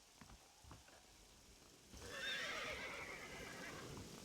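Horses in Red Dead Redemption whinny near a remote shack, a drawn-out neigh rising after some soft hoof shuffles and quiet ambience, followed by a lingering breathy tail.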